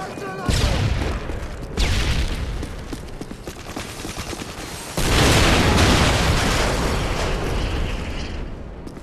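Explosions and gunfire in a Call of Duty hardcore Search match, with several loud booms and a sustained roaring blast near the middle over constant battle noise, with voices talking at times.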